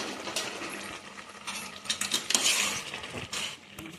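A spoon stirs softened cooked tomatoes in a pot for tomato chutney, giving irregular metallic scrapes and clinks that cluster in the middle, close and moderately loud.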